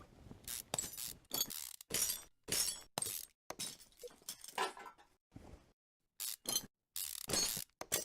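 Removing a brake caliper in the video game Car Mechanic Simulator 2015 brings a rapid series of loud ratcheting wrench bursts and clanks, separated by short silent gaps, no talk.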